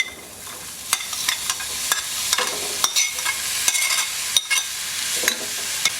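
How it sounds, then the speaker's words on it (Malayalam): Cleaned jackfruit seeds stir-fry in a pan, with a steady sizzle under repeated sharp scrapes and knocks from a spatula, close and fairly loud, and no voices. "ഇതിലോട്ട് നമ്മൾ വൃത്തിയാക്കി വെച്ചിരിക്കുന്ന ചക്കക്കുരു ഇട്ട് കൊടുക്കുക"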